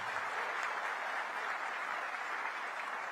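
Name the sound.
audience applause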